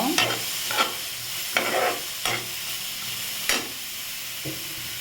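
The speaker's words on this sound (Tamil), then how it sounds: "வெங்காயத்தை சேர்த்துக்கலாம் வெங்காயத்தை நல்லா வதக்கிக்கோங்க" Onions sauté in a kadai on the stove, giving a steady close sizzle broken by several sharp scraping stirs of the spoon against the pan, with no talking.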